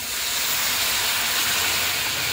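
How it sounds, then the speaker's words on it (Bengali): Fish curry gravy for a katla fish jhal bubbles at a full boil in a pan, a continuous loud hissing, sizzling wash heard close with no voices. "দেখো ঝোলটা ফুটে উঠেছে"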